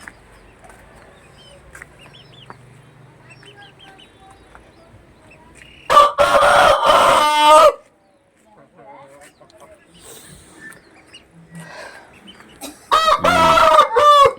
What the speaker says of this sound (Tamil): இந்த சேவல்